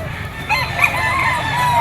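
A young white Kelso Firebird gamecock, a white-legged, round-headed stag, crows once in a drawn-out call over steady background noise, with other fowl clucking faintly nearby.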